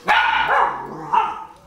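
A dog barks in a short loud burst, two close sharp barks followed by a second yelp, near and clear with no talk over them.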